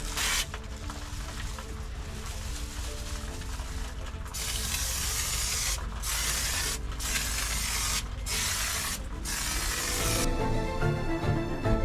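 A continuous hissing spray of foam insulation coating a campervan ceiling, steady and close, broken by a few brief pauses before the spraying resumes.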